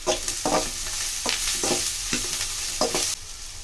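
Curry leaves and tamarind fry in a pan for radish chutney, a continuous close sizzle broken by about half a dozen rhythmic spoon strokes and scrapes, softening slightly at the very end.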